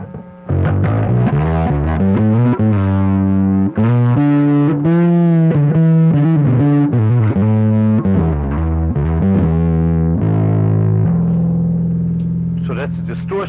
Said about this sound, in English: So that's the distortion part.